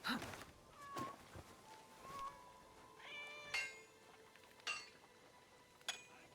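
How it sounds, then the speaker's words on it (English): Several short cat meows from the video game Assassin's Creed Shadows, scattered across the clip with gaps between them, moderately loud over a quiet game ambience. "I heard a kitty."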